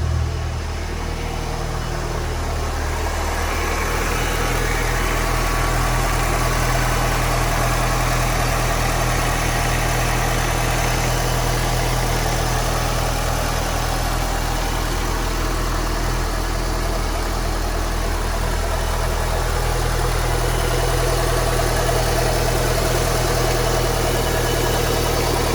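A 1996 Mitsubishi Lancer Evolution 4 with a factory exhaust idles steadily, a smooth, tame low hum with a constant drone and faint vibration, close and alone with no talking.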